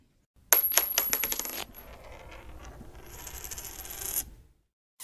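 A coin dropped onto a hard surface, a sharp metallic clink followed by rattling and spinning that settles over several seconds before stopping, close and alone.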